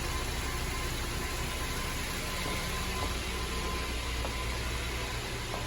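A Honda Civic FN2 Type R engine runs on a dyno, a steady dense mechanical roar with a low droning hum, loud and unbroken with no voices.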